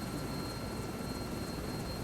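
A Sikorsky S-64 Skycrane helicopter in Microsoft Flight Simulator 2024 drones steadily with dense, even rotor and turbine noise and a faint high whine, heard alone at constant loudness.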